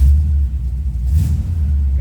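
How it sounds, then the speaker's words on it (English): A 1972 Buick Skylark coupe running after start-up, its engine giving a steady low rumble throughout with slight swells in level, heard close with no voices. "I said, car starts right up."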